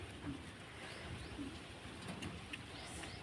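Soft, low cooing from baby pigeons repeats a few times at a quiet level over faint background noise.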